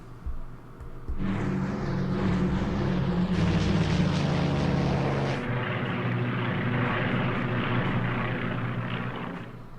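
Aircraft engines drone in the World War II strategy game Strategic Command, a dense, steady propeller-like roar that starts abruptly after a second and holds loud and level to the end, no speech.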